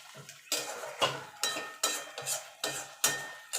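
A spoon scrapes rhythmically through chicken kosha in a pan as garam masala goes in, roughly one loud stroke every half second against a faint sizzle, with no talking.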